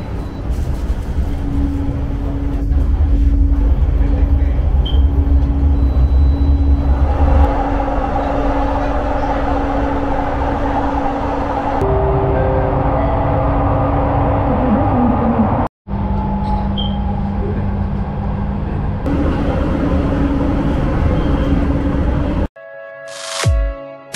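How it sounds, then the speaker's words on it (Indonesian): Interior of a moving Jabodebek LRT train carriage, a continuous low rumble and whine of the driverless train in motion, with steady hum and brief shifts in tone as it travels. "Nah, ini suasana gerbong LRT."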